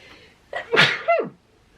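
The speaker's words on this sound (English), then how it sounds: "I'm about to sneeze and it's still not coming" A single close, loud human sneeze with a sharp intake of breath and a burst, then a quick trailing exhale, in an otherwise quiet room.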